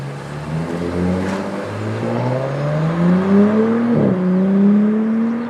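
An Audi S4 Avant B9 in dynamic mode pulls away, its engine note climbing steadily through the gears, loud and close from inside the car, with a brief shift dip midway.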